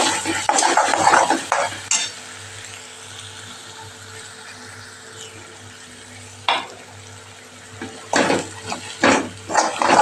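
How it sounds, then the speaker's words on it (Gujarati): A spoon stirs red chilli powder and spices into vegetables cooking in a pan for a festive Gujarati mixed-vegetable dish, with scraping and clinking strokes in bursts at the start and end, a soft sizzle in between. "આ બધું સરસ આપણે મિક્સ કરી લઈશું"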